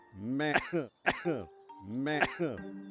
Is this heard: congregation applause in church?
no